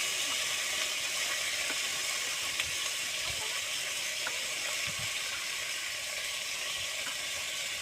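Adobo cooking in a pan, a continuous even sizzle and steamy hiss that holds steady from start to finish, with a few faint knocks underneath.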